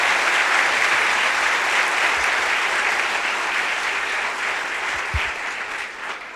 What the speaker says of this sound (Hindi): मैं वही तालियां गुरुओं के नाम पर सुनना चाहता हूं।